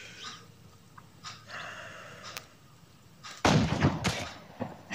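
A gunshot headshot fired in the video game Lonewolf, one sharp burst against a quiet, breathy background with a few fainter thumps around it.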